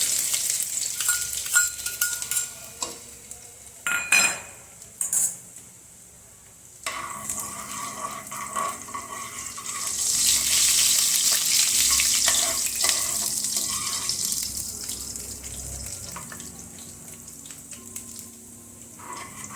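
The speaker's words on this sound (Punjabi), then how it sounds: "ਦੇਖੋ ਥੋਮ ਸਾਡਾ 1 ਮਿੰਟ ਫਰਾਈ ਹੋ ਗਿਆ" Garlic, cumin and ginger frying in hot oil, a loud, dense, crackling sizzle that runs throughout, briefly broken by a few clatters and a short dip, with no talking.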